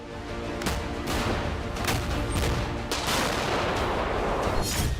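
Gunfire and artillery explosions over Crimean cities, a dense continuous barrage of booms and sharp cracks at steady loudness, with no voices.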